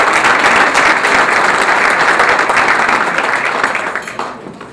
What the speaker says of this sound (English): Let's give a round of applause to our Yonkers chairman, John Dracola.